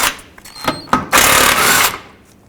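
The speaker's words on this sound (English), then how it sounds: "Now I'm going to loosen up the two nuts here that hold this mount onto the frame." A socket wrench works on engine mount nuts on a 2001-2007 Volvo V70. Short clicking and ratcheting bursts lead into a steady mechanical whir of about a second, close and fairly loud.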